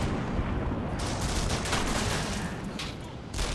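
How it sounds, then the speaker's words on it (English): Combat Mission: Battle for Normandy wartime battle, with a steady dense roar of distant gunfire and rumbling artillery barrages, continuous and moderately loud throughout with no voices. "There comes my artillery in the back there."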